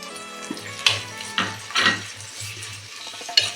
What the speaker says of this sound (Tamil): தக்காளி வதங்கட்டும்.